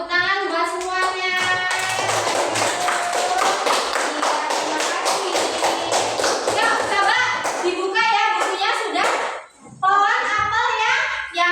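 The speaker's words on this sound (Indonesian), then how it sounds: "tepuk tangan buat semuanya" Classroom group clapping during a teaching practice lesson, rhythmic sharp claps from children mixed with shouts and sung or chanted voices, loud and close, with a brief pause before voices resume.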